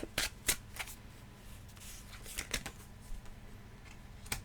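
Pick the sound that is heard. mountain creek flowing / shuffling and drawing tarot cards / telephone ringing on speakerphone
shuffling and drawing tarot cards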